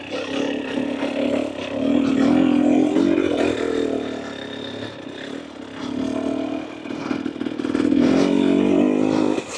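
A 2024 Husqvarna TE250 dirt bike with an FMF Turbine Core 2.1 exhaust runs on a trail, its engine idling and rising in short throttle surges, with some clatter and scraping, close and fairly loud.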